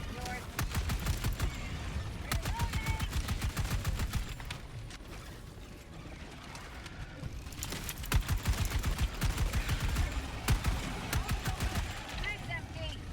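Helldivers 2 gameplay gunfire: rapid automatic bursts rattle in long volleys with brief pauses, loud and close, while voices talk over the shooting.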